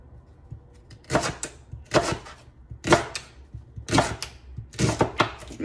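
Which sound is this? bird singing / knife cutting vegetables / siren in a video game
knife cutting vegetables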